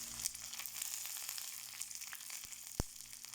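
Mustard seeds, chopped shallots and a broken dried chili sizzle in hot oil, a steady bright crackle of frying that holds throughout, with a few sharp pops standing out near the end.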